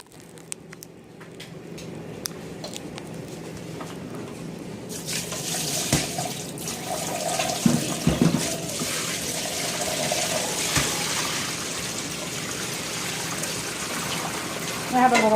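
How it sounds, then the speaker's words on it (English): Brine water drains from a container of chicken through a colander into a kitchen sink, a steady running and splashing stream that starts a few seconds in and continues throughout, loud and close. "I'm going to drain out the water from this and pat dry the chicken."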